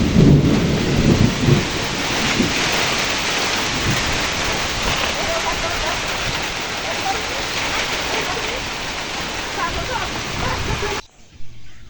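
A village thunderstorm lashes rain and wind across small mango trees, a loud, dense roar of downpour and gusts with rumbling thunder throughout, ending abruptly.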